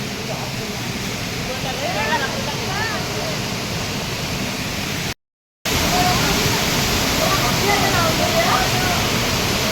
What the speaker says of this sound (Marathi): खाली एक झरणा आहे तो बघायला.